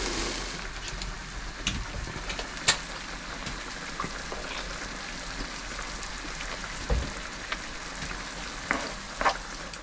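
Sausages sizzling in a frying pan in tomato sauce aboard a narrowboat, a steady soft crackle with scattered pops and clinks, fairly quiet and free of talk.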